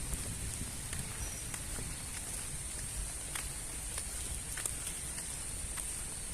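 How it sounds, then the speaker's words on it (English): Light rain over an open playing field in a nature-filled town area makes a soft, even patter with faint scattered drop ticks and a constant high insect-like whine, steady and distant, with no talking. "we are watching that light rain."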